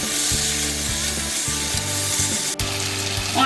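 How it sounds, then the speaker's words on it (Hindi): Tomato masala with spices frying in oil in a pan, a continuous close bubbling sizzle with scattered soft stirring and scraping touches, steady and fairly loud, no voices. "मसालों को हम टमाटर में मिला लेंगे, और फिर हम ऑयल सेपरेट होने तक टमाटर को पका लेंगे।"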